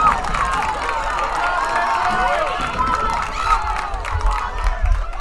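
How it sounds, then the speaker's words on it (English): A crowd of high school soccer fans cheers loudly and steadily through a sectional semi-final match after a goalkeeper's diving save, with a dense roar, scattered shouts and clapping swelling and falling throughout. "if you were to like keep track of the amount of decibels from that cheering, oh my gosh, that'd be really loud"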